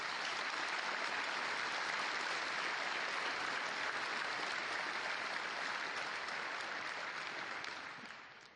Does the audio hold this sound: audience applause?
yes